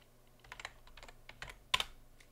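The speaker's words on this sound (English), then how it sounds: "hit Command D on the keyboard to duplicate it" Short bursts of computer keyboard key presses, a few scattered taps and clicks with one sharper, louder keystroke near the end, close and alone against a quiet background.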